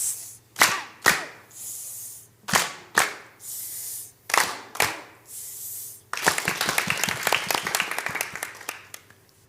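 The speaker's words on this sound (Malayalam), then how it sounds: "cross clap go" Children in a church programme clap in rhythm, sharp loud rhythmic claps in pairs and triplets, followed by a burst of dense, scattered applause from the group.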